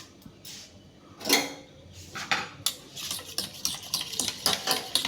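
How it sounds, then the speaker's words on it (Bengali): A spoon stirs yogurt (dahi) with water and salt in a bowl, making repeated scraping, clinking strokes that quicken into a steady rhythm of close, bright knocks against the bowl. "জল দিয়ে ভালো করে আমি এটাকে ঘুটবো"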